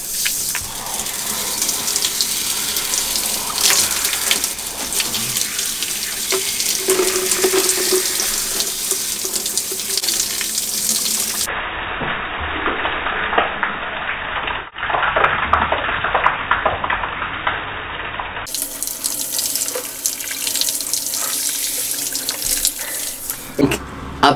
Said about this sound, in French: Et puis, nous allons rincer le shampoing.